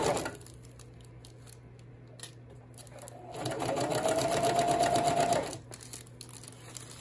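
A sewing machine stitches Sunbrella outdoor fabric for reupholstered cushions, a steady whirring run of about two seconds rising midway over a quiet room hum, then stopping.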